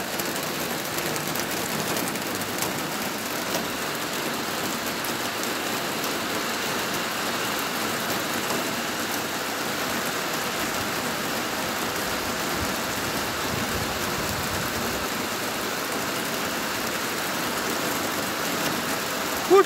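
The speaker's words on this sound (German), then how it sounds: "Da freut sich jeder über so einen Regenguss." Heavy summer rain shower pouring down: a dense, continuous hiss of rain hitting surfaces, steady and loud throughout.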